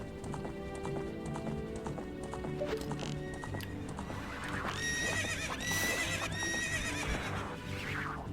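Horse in the video game Ocarina of Time trotting with steady clip-clop hoofbeats, then letting out a loud neigh and whinny near the end, set against background game music.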